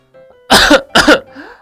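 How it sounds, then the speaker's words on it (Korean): A voice coughing from a cold: a faint throat sound first, then two loud, harsh coughs in quick succession, ending in a short wheezy breath, close to the microphone. "아까부터 계속 기침도 나오고 콧물도 나와"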